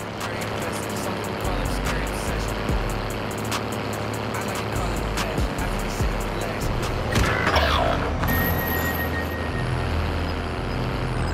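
Vehicle engine in a Call of Duty: Modern Warfare Zombie Royale match, a steady loud rumble running the whole time with bumps and clatter and a brief burst of noise near the end.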